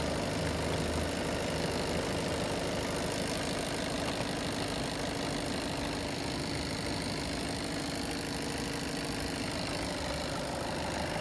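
A 2016 Skoda Octavia A7 1.6 diesel engine idles steadily and close by, a continuous low rumble with a faint rhythmic knock and no voices.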